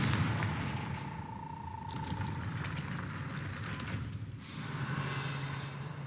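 Confringo fire spell blast from the Hogwarts Legacy video game, a muffled boom and crackle trailing into steady in-game ambience, moderately loud with no talk over it.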